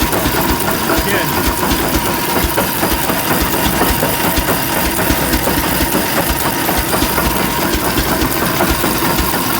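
An antique engine runs steadily at an outdoor engine and tractor show, a continuous low chugging rumble with mechanical clatter close by, under people talking.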